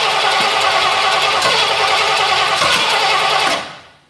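A truck engine with a tight, hard-to-adjust timing retard cranks and runs loud and close, a dense steady roar that drops away sharply near the end.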